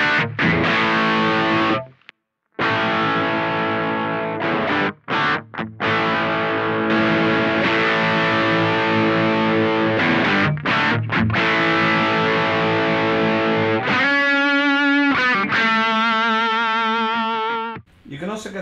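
An electric guitar plays through a Danelectro Billionaire Pride of Texas TS-style overdrive pedal with gain down and volume high, pushing an amplifier's front end: sustained, mildly driven chords and single notes, continuous with brief pauses.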